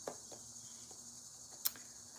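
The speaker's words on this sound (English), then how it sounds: "these fucking crickets, do you hear them?" Crickets chirp faintly indoors, a thin high-pitched continuous trill under a quiet room tone, with a few soft ticks and taps scattered through.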